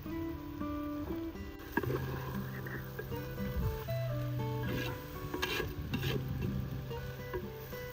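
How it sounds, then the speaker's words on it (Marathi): A utensil scrapes and rasps against the inside of a pot, stirring village-style chicken curry in irregular strokes, with steady background hum and some faint talk. "हे करून जरा आपण हलवून घेऊया."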